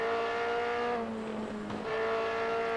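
Racing car engine in a video game, a sustained loud harmonic whine that dips briefly as if braking into a right-hand corner, then climbs again under throttle.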